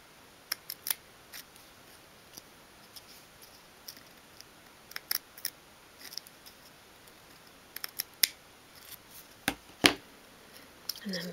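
Small scissors snipping into the corners of card for a 1/12 scale miniature bench: quiet, crisp little clicks and snips scattered irregularly, close but faint, with light handling rustle between cuts.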